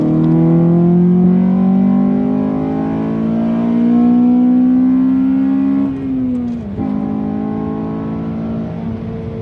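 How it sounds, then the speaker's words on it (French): A warm Honda Civic Type R FN2 engine revs up hard in third gear from inside the car, its rising drone climbing steadily, easing off, then dipping with a gear change before settling into a lower steady hum. "Donc le moteur est chaud, hein, je précise, il n'y a pas de problème, je vais taper dedans, juste histoire de montrer le son"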